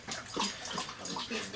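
A dog laps water outdoors on a warm day, with quick wet splashing laps in an uneven rhythm, close and fairly loud, and no voices.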